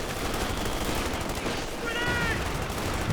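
Rifle grenades exploding in a Company of Heroes 2 battle: a dense barrage of gunfire-like cracks and blasts runs throughout, steady and loud, with a brief whistling tone in the middle.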